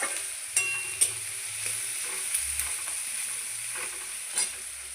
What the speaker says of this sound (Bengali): সেটা একটু লাল লাল করে ভাজা হোক